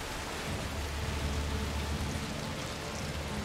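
Steady, dense rainfall in the video game A Plague Tale: Requiem, a continuous hissing downpour with a low rumble beneath it, heard alone without speech.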